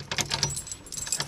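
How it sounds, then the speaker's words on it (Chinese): A bunch of keys jangles and clinks in quick, irregular bursts, close up and fairly light. "现在拿钥匙，这好多钥匙，我们一个一个的试吧"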